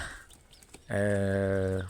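A laying hen lets out a loud, drawn-out squawk close by, preceded by faint clucking and rustling in the background.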